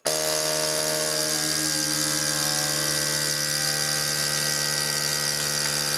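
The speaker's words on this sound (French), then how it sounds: "Je vais appuyer sur aspirer, puis sceller." CalmDo vacuum sealer pump running steadily at close range, a loud continuous motor drone with a constant whine held throughout while it draws the air from a bag before sealing.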